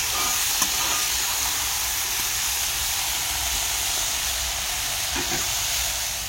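Silkworm pupae frying in hot oil in a kadai produce a loud, steady, bright hiss and sizzle that holds close and constant throughout, with no talking.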